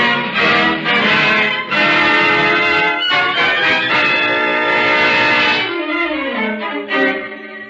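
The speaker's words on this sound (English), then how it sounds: "Pretty, all them foghorns." Several foghorns over a foggy harbor sound together, overlapping long, tonal blasts of differing pitch that hold and swell for several seconds, loud and close with no voices, in an old radio drama setting.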